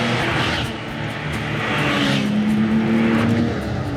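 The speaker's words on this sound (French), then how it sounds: "Tu sens le moteur en Atmo linéaire, comme ça, et tu sens qu'à partir de 4000 et 4005, il va se passer des choses jusqu'à 7000." Porsche naturally aspirated engine at a Saint-Tropez Porsche event, a loud sustained drone whose pitch climbs steadily as the revs build, heard close with no talk.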